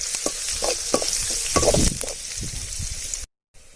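Chopped onions tipped into hot oil with cumin seeds and stirred for a pepper chicken dish: a bright sizzle with repeated scraping stir strokes, briefly cut off near the end before the frying resumes.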